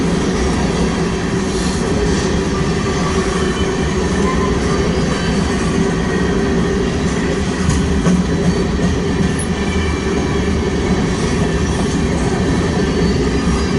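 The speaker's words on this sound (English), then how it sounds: "Westbound empty coal drag on the BNSF Heartland Division" An empty westbound BNSF coal train on the Heartland Division at Ashland, Nebraska, rolls past continuously for many seconds, with a loud, steady rumble of wheels and cars and occasional higher squeals, close by and without voices.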